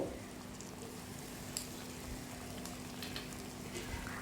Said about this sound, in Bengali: সমস্তটা দিয়ে খুব ভালো করে মশলাটাকে কষিয়ে নেব